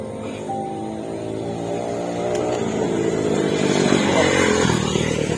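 A nearby motorcycle engine runs, a steady buzzing idle that grows louder and rougher partway through, with a faint voice briefly underneath.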